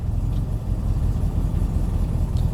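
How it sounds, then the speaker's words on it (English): An engine just after a cold start runs with a close, loud low rumble as the throttle is worked. The pitch rises and falls only slightly over a few seconds, and no voices are heard. "turn it and give it a little bit of gas. And as you can see, I'm just playing with the throttle."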